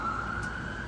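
An emergency vehicle siren outside holds a steady, sustained wail, somewhat distant and muffled, over a low indoor background hum.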